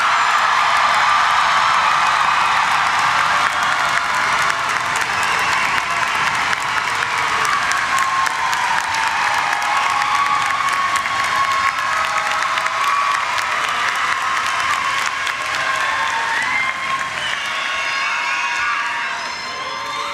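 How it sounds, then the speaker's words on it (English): At a university commencement ceremony, a large crowd claps and cheers for new graduates, sustained applause mixed with whoops and shouts that holds for about twenty seconds before easing slightly at the end. "Everyone, let's give our newest KSU graduates another round of applause."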